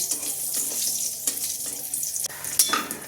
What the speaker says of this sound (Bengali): এবার আমি ওই তেলের মধ্যে কতগুলো বড়ি ভেজে নিচ্ছি